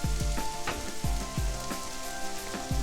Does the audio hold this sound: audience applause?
no